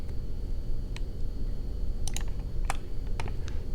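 A computer keyboard and mouse are tapped and clicked at a desk, a few sharp, sparse clicks and key presses over faint room noise.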